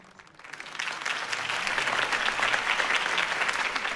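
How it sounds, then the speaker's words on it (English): A crowd bursts into applause after a mayoral campaign speech, dense clapping swelling quickly from a quiet start and holding steady and loud throughout. "could have heard that applause"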